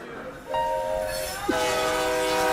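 Train horn sounding as a sustained tonal blast that steps higher partway through, heard loud and close over a steady rumble of rail noise.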